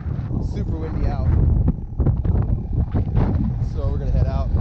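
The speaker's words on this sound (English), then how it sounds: "Super windy out." Strong beach wind buffets the microphone with a constant low roar while someone talks over it.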